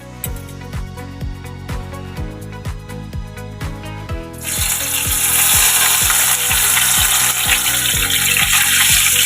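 Pabda fish dropped one by one into hot mustard oil, starting with steady rhythmic clicks and ticks, then breaking into a loud, bright, continuous sizzle once the fish hits the oil.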